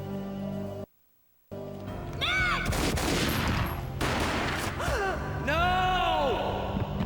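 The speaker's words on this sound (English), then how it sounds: "A gunshot boomed and she fell down in slow motion." Gunfire in the Max Payne video game: a burst of loud shots crackles amid gasps and swooping slow-motion effects, with a brief cut to silence near the start.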